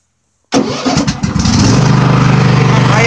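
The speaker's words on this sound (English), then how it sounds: "Turn the engine over." A Craftsman ProSeries garden tractor's small engine cranks and catches after a silent start, sputtering briefly before settling into a loud, steady, rhythmic idle close by.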